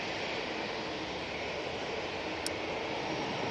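An Airbus A320-200 departs Manchester Airport for Paris Charles de Gaulle, its jet engines a steady, fairly faint distant rumble and whine holding evenly throughout, with no voices.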